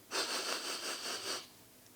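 A storyteller imitates a wolf sniffing at a sleeping armoured knight, producing one close, breathy sniffing sound that lasts just over a second before falling quiet.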